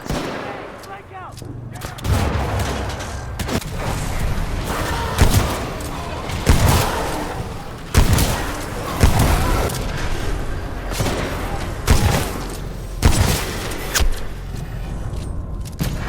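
In Titanfall 2, gunfire and grenade explosions ring out in rapid succession, with loud, repeated booms and bursts every second or two and a dense crackle of shots between them.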